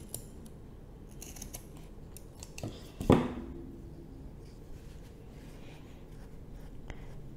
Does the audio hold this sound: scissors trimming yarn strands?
yes